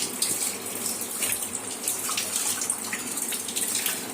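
A kitchen tap runs steadily while fresh leaves are washed clean under it. The water hisses and splashes continuously at close range with small uneven spatters and no voices.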